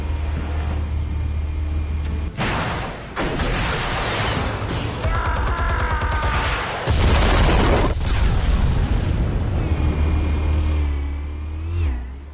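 Explosives detonate in a PS4 shooter, with heavy booming blasts and crackling debris over a low engine-like rumble, the loudest bursts landing around the middle of the clip.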